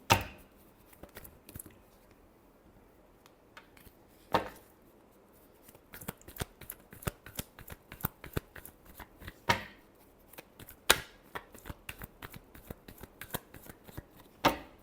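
Tarot cards being shuffled by hand in repeated bursts of crisp riffling and slapping, close and clear, with short pauses between rounds and no talk.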